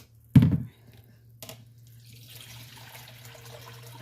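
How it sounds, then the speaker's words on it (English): Filtered water is poured from a pitcher over food in a bowl in a home kitchen. A sharp thump is followed by a soft, steady trickle over a low hum. There is no speech. "I'm going to take my pitcher water that I have right here, my filtered water. I'm going to put it over them."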